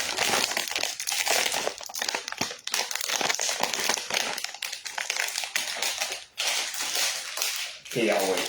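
Crinkly plastic packaging of Selena Gomez's cookies is torn open up close, a dense, continuous rustle and crackle with sharp little snaps throughout.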